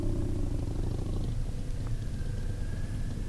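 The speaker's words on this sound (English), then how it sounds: "It sounds like a baby sport bike." A Kawasaki Ninja sport bike engine hums while the motorcycle is ridden, a steady low purring drone with faint wind noise, heard continuously at moderate distance and without talk.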